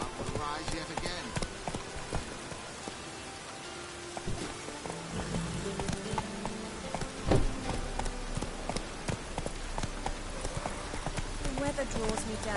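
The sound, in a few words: horse Roach galloping in The Witcher 3 video game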